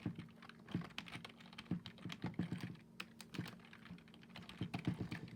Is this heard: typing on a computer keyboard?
yes